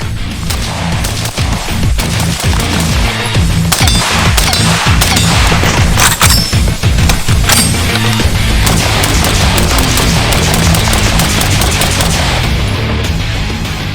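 An IWI X95 Tavor rifle fires through a CGS Helios QD suppressor, a loud, close, irregular string of muffled cracking shots, some in quick bursts, with metallic clatter between them.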